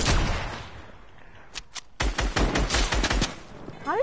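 Video game gunfire in a one-on-one match: a burst of loud shots, a short lull with a few isolated cracks, then a rapid run of close, heavy shots ending with a brief electronic sweep.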